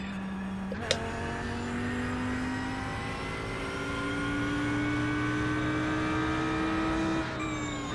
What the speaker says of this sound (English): I'm able to go full throttle up Rouge in the Lamborghini.